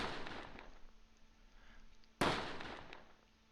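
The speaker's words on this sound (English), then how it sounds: "It's like they are still targeting us with the mortars down there." Mortar fire in the WWII tactics game Close Combat, set around Caen in June 1944: two loud, sharp explosive blasts, one at the start and another about two seconds later, each followed by a short rumbling decay with no talk.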